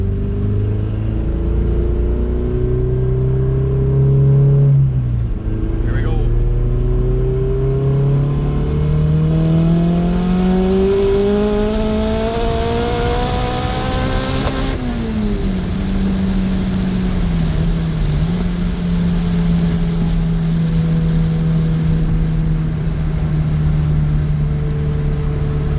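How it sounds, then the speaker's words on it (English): A turbocharged Honda B20V engine in an EK car pulls hard in fourth gear, rising steadily in pitch with one brief dip partway through, loud from inside the cabin and with no voices. "We'll do another fourth gear pull."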